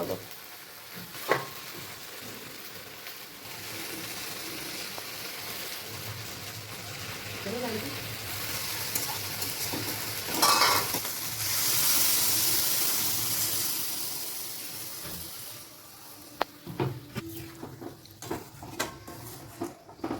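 Oats dry-roast in a wok while being stirred, giving a soft crackling hiss that swells in the middle, with occasional scrapes and clinks of the utensil against the pan and a voice speaking at times.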